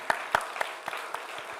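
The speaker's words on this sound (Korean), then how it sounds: "우리 박수 한번 합시다" A church congregation at a Sunday afternoon service claps together, several distinct hand claps in a loose rhythm over soft background applause in a large room.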